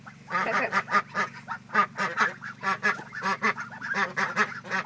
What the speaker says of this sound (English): One of them's actually quacking.